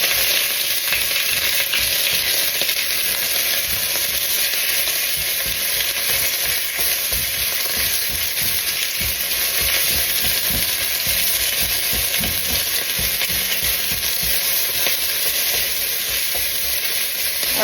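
A large onion fries and sizzles loudly in a pan, a steady dense hiss that runs unbroken throughout with no talking.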